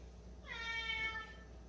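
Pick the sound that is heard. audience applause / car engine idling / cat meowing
cat meowing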